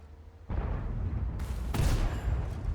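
Artillery fire striking a tank in World of Tanks, a sudden heavy boom followed by rumbling impact noise and a second sharp crack, loud and close.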